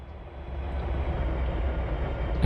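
A train rolls along in the railway simulator Trainz 2022, a steady low rumble of wheels and engine that swells slightly, ending with a brief sharp click.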